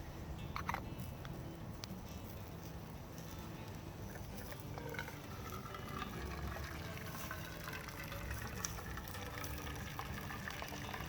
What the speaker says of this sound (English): I'm now going to strain that off into my pot,